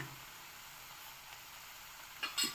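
Sesame seeds and green chilies roast in a hot pan with a soft, steady sizzle and faint hiss. Brief scraping stir sounds come near the end, with no talking.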